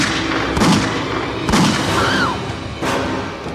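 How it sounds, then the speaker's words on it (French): Several sharp, loud bangs ring out roughly a second apart, each with a booming echo, over a steady background rumble. "Ils échangent des coups de feu."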